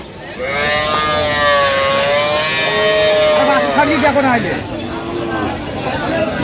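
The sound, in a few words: cattle mooing at a livestock market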